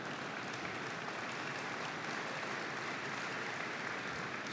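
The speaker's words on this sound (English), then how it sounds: "Do I hear my children applauding?" Applause from a large audience at a shareholder meeting in a big hall, a steady dense wash of clapping that holds evenly throughout with no talking.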